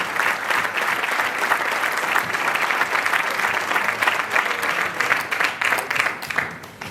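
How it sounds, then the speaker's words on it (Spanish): Steady, dense applause from an audience fills the whole stretch, loud and even with many overlapping claps, following a talk on women's cycling in Aranda. "Fuerte aplauso."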